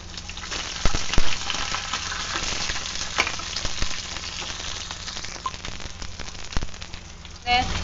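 Chopped onions, three medium ones, tipped into a hot pan and frying with a steady sizzle and crackle, a few clatters of utensils and a scrape near the end, close and continuous.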